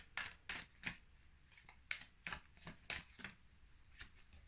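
Tarot cards shuffled during a card reading, a series of quick crisp riffling snaps close up and fairly faint, with no talking.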